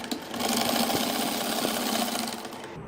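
A sewing machine runs steadily for about three seconds, stitching the side seam of a six-month-old baby boy's shirt, a close, continuous mechanical whir with a fast regular needle rhythm.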